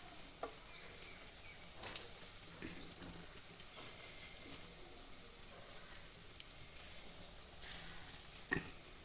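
A mixture of egg, coriander leaves, onion and garlic fries in a pan with a steady, moderate sizzle. Occasional spatula scrapes and light clinks break through the hiss, and no one speaks.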